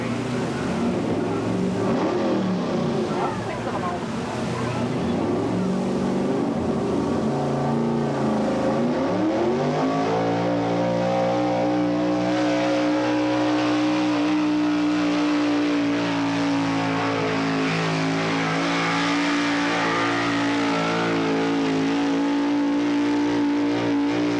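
Dirt-track race trucks at a 1986 race in Waupaca, Wisconsin rev and accelerate, engines droning loudly, then climbing in pitch as they pull away, holding a sustained roar with faint announcer talk in the background.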